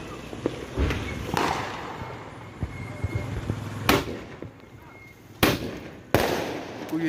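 Diwali sky-shot fireworks crack and pop in scattered bursts, a few sharp loud bangs standing out over fainter distant crackles and outdoor background noise.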